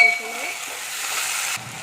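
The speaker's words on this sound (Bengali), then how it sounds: "তেলের মধ্যে আলুগুলো দিয়ে ভালো করে ভেজে নেবো আলুগুলোকে" Potato sticks fry in hot oil for a hot-oil fish and bitter gourd curry, a loud steady sizzle with stirring clatter near the start and a brief drop in level near the end.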